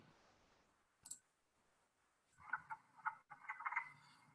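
Masses of frogs croak in a Door County nature area near Lake Michigan, with a single sharp click and then a close burst of quick, rattling croaks against quiet surroundings.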